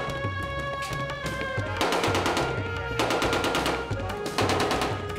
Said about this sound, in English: No one bats an eyelid here as gunfire racks the streets.